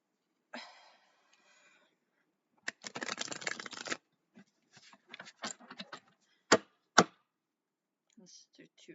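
Bursts of playing cards being riffled and shuffled close by, with a few sharp taps and short gaps of quiet between them.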